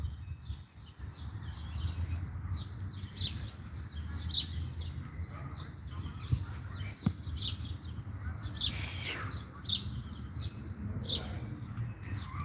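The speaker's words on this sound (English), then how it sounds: "can you guys hear the birds?" Small birds chirp and sing outdoors in repeated short bright calls scattered across the clip, moderately faint over a low steady background rumble.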